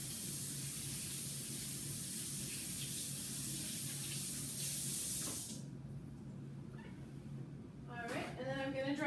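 Hands being rinsed under a running faucet outdoors at camp, a steady hiss of spraying water for several seconds that cuts off, followed by voices talking.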